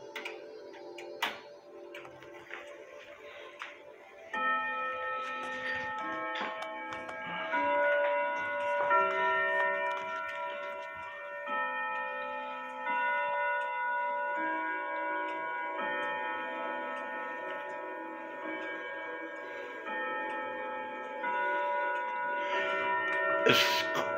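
A Ridgeway grandfather clock fitted with an Urgos 32/1A movement rings out a Westminster chime, its clear bell tones sounding in steady sequence over a soft ticking, close and moderately loud with no talking.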